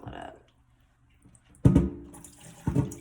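Water poured into a pot of Leca clay balls holding a Neon Pothos during hydroponic repotting, heard as two short splashing pours after a quiet pause, close and indoors, with a voice speaking nearby.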